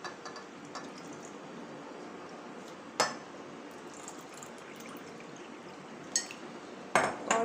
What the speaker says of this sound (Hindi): इसके बाद हम लोग पानी ऐड कर देंगे।